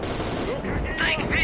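Gunfire rings out in S.T.A.L.K.E.R.: Shadow of Chernobyl as a burst of shots cracks over a dense game soundscape, with voices speaking at the same time.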